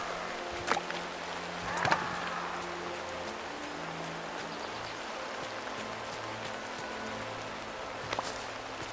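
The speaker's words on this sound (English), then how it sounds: "So I don't often have days when it's like super rain" Heavy rain in the video game Disney Dreamlight Valley, a steady, moderate hiss of falling rain throughout, with a few faint clicks and soft musical tones over it.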